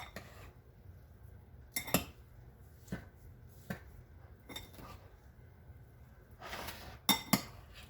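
A spoon stirring sugared fruit for ambrosia clinks against a bowl in scattered sharp taps with quiet gaps between them, close and fairly soft.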